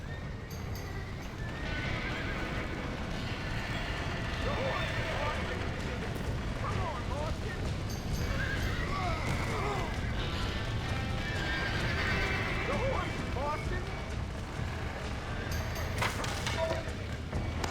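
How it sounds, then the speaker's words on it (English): Horses whinny and neigh repeatedly in the video game Red Dead Redemption over a dense, noisy background with hoofbeats clopping throughout; shouted voices mix in at times. "Now let's save the horses!"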